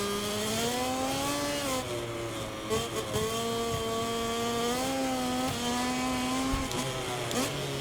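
A KTM racing motorcycle in MotoGP 24 at the Jerez circuit screams at high revs with steady harmonic engine whine, pitch rising and dipping through gear shifts, loud and alone.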